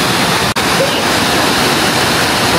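Small waterfall at Shirahige Falls in Furano, Japan, roaring as a loud, steady broadband rush close by, with one brief dropout early on.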